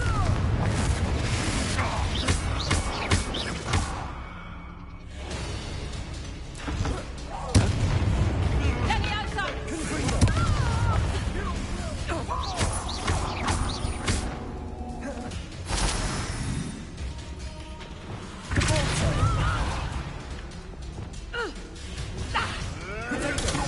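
Confringo fire spell blasts in the Hogwarts Legacy video game: repeated booming explosions and crackling bursts over a dense, loud battle din, with voices shouting among the impacts.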